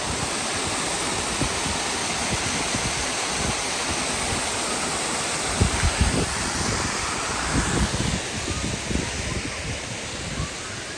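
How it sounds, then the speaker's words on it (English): Steady broadband rush of a waterfall in Cascades Park, a continuous outdoor water roar at fairly close range with light wind noise and no talking. "There's a waterfall here."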